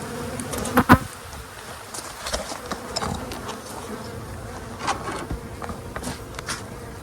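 Honey bees buzz steadily around an open hive in a continuous close hum, with a few sharper knocks and brief louder moments early on and no talking.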